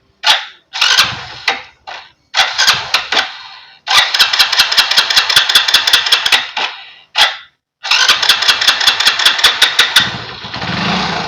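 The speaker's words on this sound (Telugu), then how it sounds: "బండి స్టార్ట్ చేసి ఇక్కడ చూడండి నేను యాక్సిలరేటర్ ఇస్తున్నాను" A BS6 motorcycle engine cranks and catches several times in short bursts, then runs with rapid throttle blips, loud and close with no talk, the revs rising and falling in quick repeated pulses.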